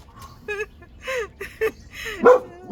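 A playful white dog lets out a series of short, excited yips and whiny barks in quick bursts, close by, with quiet background between them.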